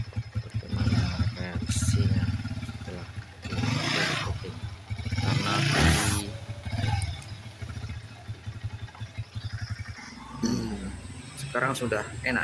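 A Yamaha Vixion motorcycle, recently fitted with a new clutch, rides on a public road with uneven engine revving and rattling. Someone talks over it at intervals.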